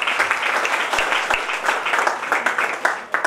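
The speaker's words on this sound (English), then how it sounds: "Shikha Pandey deserves a big applause." A crowd at a Goa sports book launch event applauds the cricketer Shikha Pandey with a dense, steady wash of clapping, moderately loud and sustained throughout.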